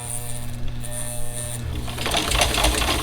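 A sewing machine stitches fabric for fall-themed bowl fillers, running a short, close buzzing seam with a steady hum that grows slightly busier and louder toward the end.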